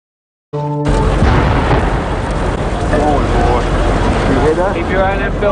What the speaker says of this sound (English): Hours after the attack, many smaller explosions rumbled through downtown.